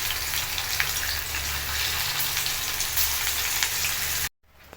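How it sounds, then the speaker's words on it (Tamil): Banana flower fritters deep-frying in hot oil, a dense steady sizzle and crackle close up, continuous until it cuts off abruptly near the end. "நம்ம வந்து இப்போ ஒன்று ஒன்றா போட்டு எண்ணெயில் டீப் ஃப்ரை வந்து பண்ணி எடுத்துடலாம்"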